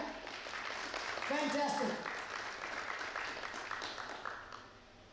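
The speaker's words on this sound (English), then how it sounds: "So, round of applause." An audience at a fashion and music fusion event claps together, a dense burst of applause that builds and then fades, with a voice speaking over it near the start.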